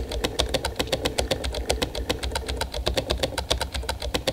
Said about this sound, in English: His typing is so fucking robotic.